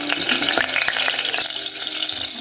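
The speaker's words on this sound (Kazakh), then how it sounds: "30 граммдай сары май салып ерітеміз" About 30 grams of butter melts in a few spoonfuls of hot oil in a rice pot, giving a loud steady sizzle and crackle with occasional sharp pops, close up and without talk.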